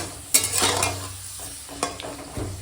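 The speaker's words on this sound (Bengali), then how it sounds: "ওই জন্য একটু পাঁপড় ভেজে নিচ্ছি" White papad frying in hot oil in a pan makes a close hissing sizzle, with a few sharp utensil knocks and scrapes breaking through it.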